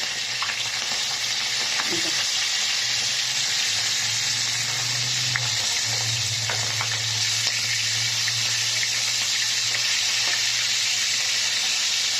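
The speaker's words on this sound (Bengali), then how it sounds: "এখন একবার মাছ ভেজে তুলে নিয়েছি লাল করে, আরেকবারও দিয়েছি।" Fish frying in a pan, a second batch going into hot oil after the first was browned, giving a steady broadband sizzle that holds for the whole stretch with a low hum underneath and a few light stirring clicks.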